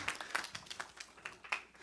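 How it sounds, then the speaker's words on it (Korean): Children at a Bible lesson about David clap in sparse, quiet, fairly rhythmic claps that sound close but faint. "박수 해주세요, 박수."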